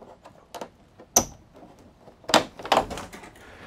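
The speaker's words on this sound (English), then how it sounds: "So let me just open up both doors for you." The two doors of a Suncast Sutton 7x7 resin shed being opened: a few hollow plastic clunks and rattles, one sharp knock followed by a cluster of thuds and scrapes, close by with no talking.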